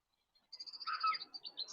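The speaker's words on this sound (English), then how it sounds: "There's a crow up in the tree. He's making a bit of a racket" Crow calling from a tree beside the River Barrow, a run of harsh, raspy caws repeated in quick succession at moderate distance, with no talk over it.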